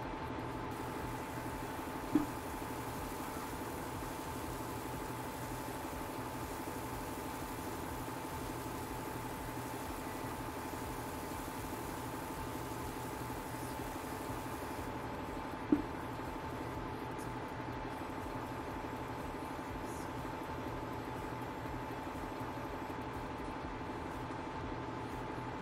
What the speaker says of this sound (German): Das Motor starten.